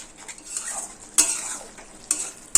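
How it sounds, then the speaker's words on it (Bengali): Jackfruit seeds, potato, onion and spices sautéed in a pan, with soft sizzling under repeated spatula scrapes and a few sharp metallic clinks, close and moderately quiet. "এবার এই কাঁঠালের বীজ আলু পেঁয়াজের সঙ্গে সব মশলা খুব ভালোভাবে কষিয়ে নেব"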